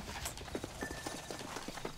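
Horse hooves in the Red Dead Redemption video game clip-clop in a steady, quick trotting rhythm, faint and somewhat distant over a soft background ambience.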